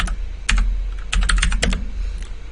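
Keys clatter on a computer keyboard while a value is typed into CAD drafting software, with a short burst of clicks followed by a denser run of keystrokes that ends in a firmer press of the enter key, close and clear with no talk.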